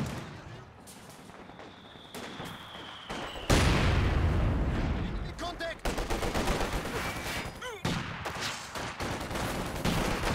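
Artillery and mortar barrage in Company of Heroes 2, a dense run of booming impacts and rattling gunfire that swells loud after a few seconds and keeps pounding in heavy bursts.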